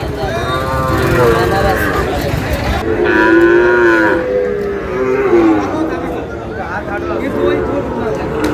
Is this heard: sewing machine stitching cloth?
no